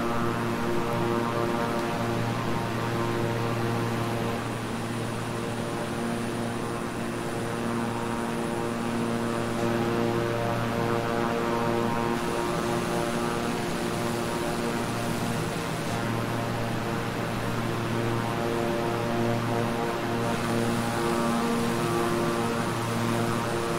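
Steady twin-engine propeller drone of a King Air 350i in Microsoft Flight Simulator, cruising over flat farmland; a constant, loud engine hum with stable tonal layers runs alone throughout.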